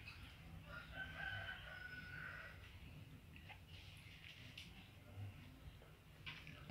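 A blirik rooster crows at moderate distance with a drawn-out call early on, set against steady background rumble and some faint voices.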